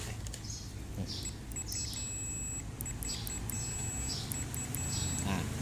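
Short high-pitched electronic beeps from a digital multimeter's continuity test come in clusters of two or three over a low background hum, with brief pauses between groups.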